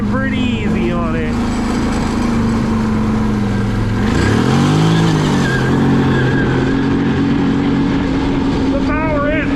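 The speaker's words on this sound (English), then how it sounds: "Right now the grass is kind of frosty. We're spinning pretty easy on it." A 2008 Arctic Cat Thundercat 1000cc ATV spins its tires on frosty grass, its engine droning loudly and rising in pitch as it revs, with a voice talking over it.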